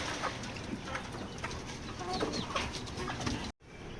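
Hens cluck in short, scattered bursts over a steady outdoor background, several birds fairly close by.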